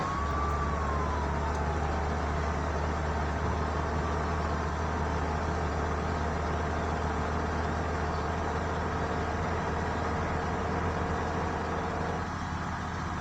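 An ambulance siren in the video game Bus Simulator Indonesia wails steadily with a slowly rising and falling tone over a constant low engine drone, loud and continuous throughout.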